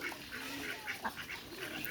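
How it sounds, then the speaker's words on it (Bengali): Open-air ducks feeding on paddy rice give faint, scattered quacks and soft pecking and dabbling noises over a low, steady outdoor background. "এই যে আমাদের হাঁস খাচ্ছে খুব ভালো খাচ্ছে"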